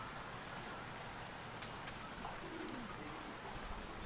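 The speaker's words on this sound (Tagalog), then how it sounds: "may dumating ulit tayong isang ibon" A racing pigeon coos softly in the distance, its low burbling notes barely rising above a steady background hiss.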